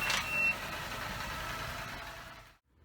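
An OKP Life K2 robot vacuum starts up with a short chime followed by a steady whirring motor hum that runs for a couple of seconds before cutting off abruptly.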